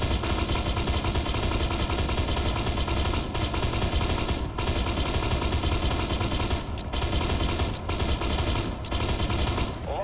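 Tank cannon and gunfire in the Armored Warfare video game from an Abrams AGDS, heard as dense continuous rattling bursts with brief gaps, loud and close and filling the whole stretch without talk.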